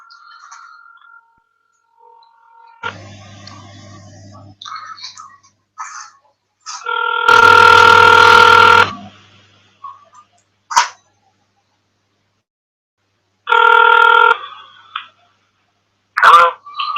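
On a hardcore dance radio show, a phone line is readied with short bursts of dialing tones and an electronic ring. The tones come in separate clipped bursts with silent gaps between them, loud and close.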